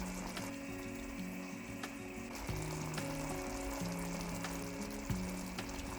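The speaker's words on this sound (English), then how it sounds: "Put the meatballs in the sauce, juicy, flavorful," Meatballs simmer in sauce in a pan, giving a steady, soft sizzle and bubbling that runs through the whole stretch beneath background music.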